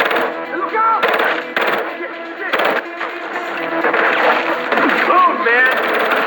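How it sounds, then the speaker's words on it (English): Rapid bursts of gunfire in Battlefield Hardline crackle and stutter in repeated volleys, loud and close, with voices shouting faintly underneath. "I heard gunshots."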